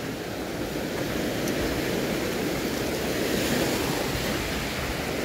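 Ocean waves roll and wash steadily against a rocky shoreline fishing spot in Miagao, Iloilo, a continuous loud surf with wind noise and no speech.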